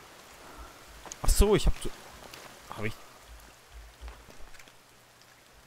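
Rain falling in the survival video game The Forest, a soft steady hiss beneath the clip while someone speaks briefly over it.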